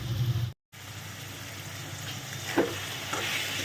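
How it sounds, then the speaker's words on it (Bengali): Soya chunks fry in oil for a tarka, a close, even sizzle with a brief cut to silence and the scrape of a spoon stirring through the pan. "আমার খুব ভালো করে আমি কষিয়ে নিয়েছি সোয়াবিনের সাথে প্রত্যেকটা জিনিস।"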